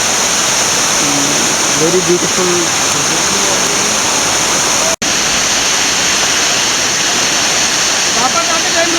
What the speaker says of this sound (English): This is one of the very beautiful falls in Amboli.